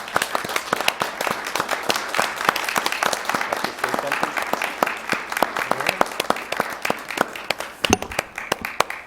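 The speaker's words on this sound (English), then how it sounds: "standing and giving Susie a round of applause for all she's done for Mojave County" Standing applause for Susie at a county Board of Supervisors meeting in Mohave County: a room of people clapping in a sustained, fairly sparse patter with individual claps distinct, continuing for about nine seconds with faint voices underneath.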